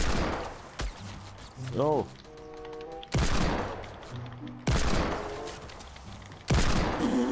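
Gunfire in the Fortnite battle royale video game: several loud, abrupt bursts of shots with sharp onsets, separated by quieter stretches containing tonal game sounds and brief talk.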